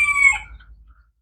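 Pet chickens at a home garden plot, with a rooster crowing loudly and close for about a second before the sound tails off into quiet.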